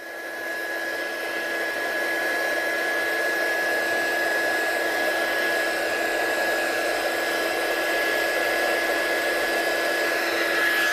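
Embossing heat tool blowing hot air to set sparkly ink on a handmade card, a constant loud whooshing fan roar with a steady high whine that ramps up at the start and holds without pause.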